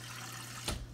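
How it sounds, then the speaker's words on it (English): Water is poured into the bottom of a roasting pan beneath a duck, a brief soft splash and trickle rising near the end over a faint steady hum. "I'm going to put a little water in the bottom. A little bit more."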